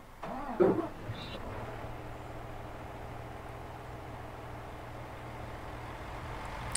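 A car engine in Farming Simulator 19 holds a steady, low idling hum from start to finish at fairly faint level, with a brief louder sound near the beginning.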